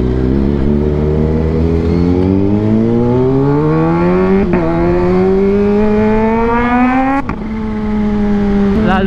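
A big bike motorcycle engine pulls loud and close through rising revs, pitch climbing steadily with two brief shifts where the tone drops before climbing again.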